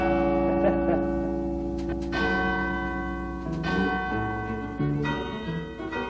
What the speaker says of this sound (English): Here you can climb the tower and serenade the city by playing the bells.